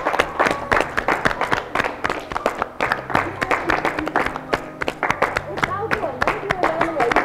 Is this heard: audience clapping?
yes